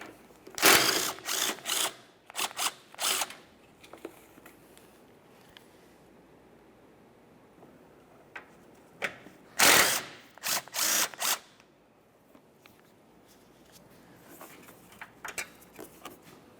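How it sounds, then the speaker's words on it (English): Ratchet bursts loosening 12mm headlight mounting bolts on a 1994-1997 Honda Accord, several quick clicking runs near the start and again near the middle, with quiet gaps between and no talk. "We'll remove the pair from this side of the vehicle"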